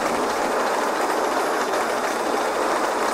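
A train, the Flying Kipper, rushes past on rails at close range, a loud continuous roar of wheels and rolling stock with a steady rumbling wash and no voices.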